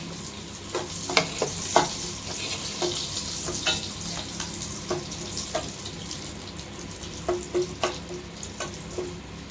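Ghee sizzling in a pan for aloo biryani while being stirred, a steady frying hiss broken by irregular clinks and scrapes of the utensil against the pan.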